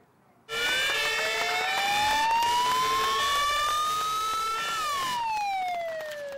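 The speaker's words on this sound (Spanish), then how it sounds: "con el sonido de las sirenas de los vehículos de emergencia" A loud wailing siren starts abruptly, pitch sweeping slowly upward then dropping, with several overlapping emergency vehicle tones close by, sounded in tribute in the Canary Islands.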